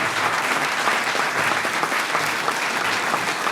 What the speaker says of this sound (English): Can I have a round of applause for everyone who thought,